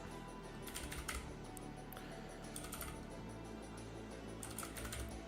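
Fingers clatter on a computer keyboard in quick bursts of keystrokes with short pauses between them. The typing is fairly quiet over a steady background hum, and no one speaks.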